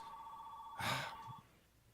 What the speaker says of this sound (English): the phone stops ringing